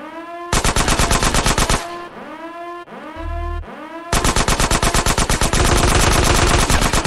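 Rapid automatic gunfire from GTA San Andreas Definitive Edition rattles out in loud, dense bursts, with a brief pause and a lower thump before the shooting resumes more heavily, all without any talk.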